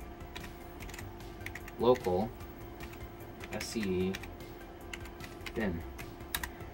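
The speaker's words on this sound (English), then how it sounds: "we're just going to type in a few commands" Commands typed on a computer keyboard to run a game through a PS2 development tool, heard as short bursts of key clicks in several clusters, with someone speaking over the typing.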